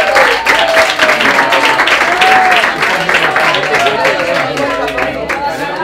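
Audience at a stand-up comedy show applauding two students, a dense, sustained burst of clapping with crowd noise that stays loud throughout and thins slightly toward the end.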